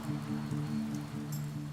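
Pouring rain running off the side of a timber roof, a steady close patter and splashing drone without any talk.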